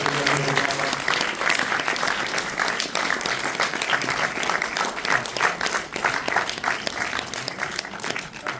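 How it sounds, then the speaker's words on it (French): A cinema audience at the Mk2 Odéon in Paris applauds after a film screening, a loud, continuous round of clapping with some voices mixed in near the start. "Accueillir l'applaudissement de tous."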